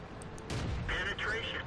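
A tank cannon shot penetrates an enemy vehicle in World of Tanks, a single booming impact that lands abruptly and rumbles on over steady game background noise.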